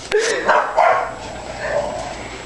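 A dog barks several times close by, sharp yips followed by lower, drawn-out whining barks, in a room with a microwave.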